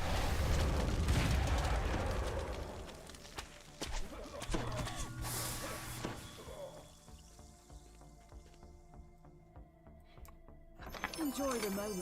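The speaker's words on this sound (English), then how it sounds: "Nicely all exploded" Explosions in the fantasy online game Dungeons and Dragons Online: heavy booming blasts and rumbling debris up front, fading into ringing magical effects, with a voice talking over the action.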